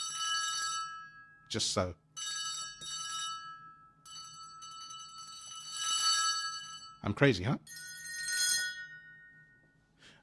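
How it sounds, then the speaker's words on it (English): Synthesized bell and alarm-clock tones from a music production setup ring in bright bursts with sharp, louder hits in between, and someone speaks briefly over them. "So you can have a bell or an alarm clock,"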